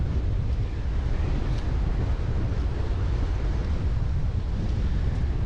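Ocean surf rolls onto the beach at Playa Langosta in Cancun's Hotel Zone as a continuous loud wash of broadband noise, heavily buffeted by wind rumbling across the microphone, with no talking.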